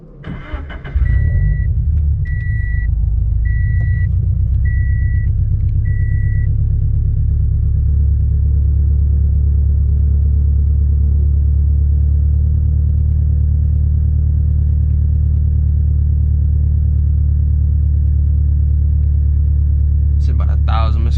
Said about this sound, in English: let's go ahead and start up the car and then let it sit for 45 seconds